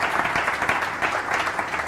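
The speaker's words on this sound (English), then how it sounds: "Big applause." An audience at a startup talk event applauds in a short burst of dense, steady clapping that fills the room, with no voices over it.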